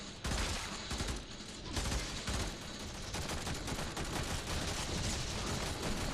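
A burst-fire weapon in the Warframe video game, shooting in rapid loud bursts that almost never stop, dense and continuous gunfire with only brief dips.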